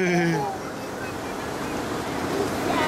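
Ocean surf washing onto Baker Beach in San Francisco, a steady broad hiss and rush of water with wind, while a voice calls out briefly at the start.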